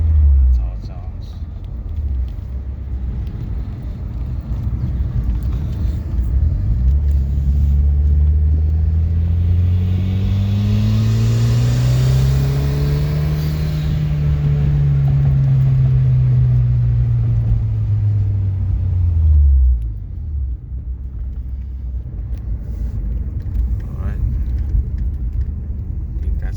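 A loud, close engine on a Mitsubishi Lancer X with a K&N Typhoon cold-air intake idles, then revs in a long rising and falling sweep with throaty intake noise before dropping back to a rumbling idle.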